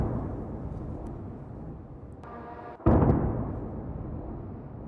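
A low rumbling background is broken by a sudden heavy boom from a Russian drone attack in Ukraine that lingers and slowly fades, heard from a distance.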